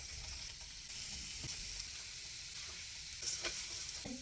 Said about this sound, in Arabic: هنجيب زبده سايحه وندهن بس بيها الجريل، ونبتدي بقى ننزل بالجمبري.